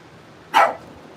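One sharp, fairly loud dog bark at home rises out of near quiet and quickly fades.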